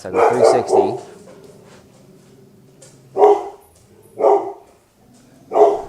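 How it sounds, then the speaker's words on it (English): Dogs bark nearby in a room where a man explains a math problem, a few loud barks at the start followed by three separate single barks spaced about a second apart, each rising over his quieter voice. "Sorry about the dogs."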